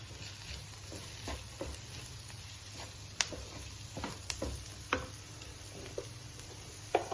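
Coriander, turmeric and pepper powders fry in a pan for fish mappas, a soft, continuous sizzle broken by scattered ticks and light scrapes of a stirring spoon.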